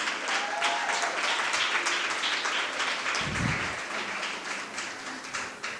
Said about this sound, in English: A special round of applause to them.